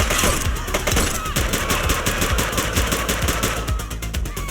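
Rapid automatic gunfire in the police video game The Precinct, a dense run of loud close bursts rattling on for several seconds.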